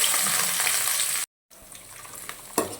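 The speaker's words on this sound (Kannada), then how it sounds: "ಸ್ವಲ್ಪ ಫ್ರೈ ಮಾಡ್ತಾಯಿದ್ದೀನಿ" Chopped coriander leaves sizzle in hot oil, a steady bright frying hiss that cuts off abruptly partway, then resumes more faintly, with a small clink near the end.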